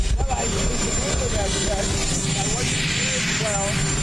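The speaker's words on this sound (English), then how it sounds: "it would be nice if the engines weren't fucking blaring in the background" Aircraft engines roar loudly and continuously in the background, a broad steady rush under speech that runs through the whole stretch.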